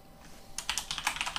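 Rapid keystrokes clatter on a computer keyboard after a brief quiet start, a quick irregular run of close, crisp taps.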